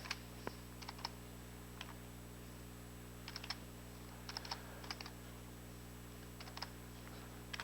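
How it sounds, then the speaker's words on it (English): Light keyboard taps come in short scattered bursts over a steady electrical hum, close and quiet, with pauses between groups of keystrokes, on a home-built Kestrel-2 computer. "you'll probably hear me tapping twice on the keyboard for every character."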